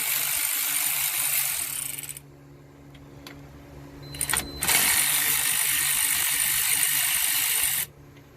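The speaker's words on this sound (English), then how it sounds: "Take out the bolt for the transmission cooler." Ratchet wrench loosening the transmission cooler bolt on a 2005 Dodge Durango during radiator work, two long runs of fast close clicking separated by a quieter gap with a few metallic knocks.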